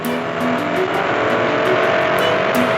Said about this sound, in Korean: 굉음과 비슷한 엔진 소리가 들립니다.